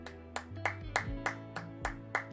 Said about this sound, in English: Just clapping as far away from the mic as I can